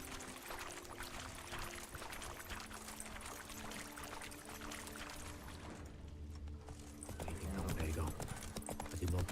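Roach, the horse in The Witcher 3, gallops in a fast, steady clip-clop of hooves, quiet and continuous across the clip, with a faint snort and a person talking now and then.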